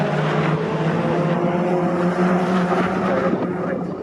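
Honda Civic race cars racing at Snetterton and running down the Bentley Straight, a steady blend of engine drone and rushing noise heard from a distance at moderate loudness.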